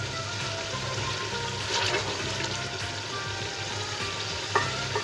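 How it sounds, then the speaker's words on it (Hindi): Chickpea curry masala fries in a pan for a Lahori chicken cholay, giving a steady, close sizzle with a bubbling, watery crackle throughout and a brief louder pop near the end. "इसको हम 1-2 मिनट मज़ीद भून लेंगे।"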